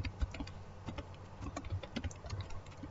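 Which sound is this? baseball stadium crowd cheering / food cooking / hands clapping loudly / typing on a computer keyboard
typing on a computer keyboard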